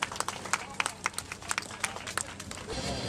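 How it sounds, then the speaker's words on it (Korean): Applause rises from the crowd at a charity marathon award ceremony in Seoul, a scattered patter of clapping with a few sharper claps that swells into a steadier wash near the end, all fairly faint and distant. "여러분 다시 한번 큰 박수 부탁드리겠습니다"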